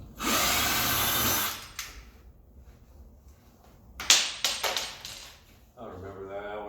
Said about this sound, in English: So I'm going to take out all these screws but one of them.